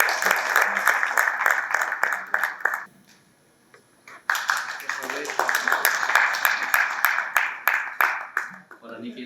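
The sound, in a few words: audience applauding after welcome speech invitation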